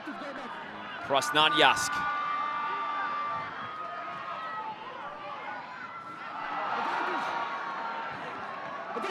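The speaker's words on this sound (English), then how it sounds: "Hear the crowd starting to swell with excitement here at Avangard Stadium." Stadium crowd noise at a rugby match at Avangard Stadium, a broad steady hubbub that swells louder toward the end, with a commentator talking over it throughout.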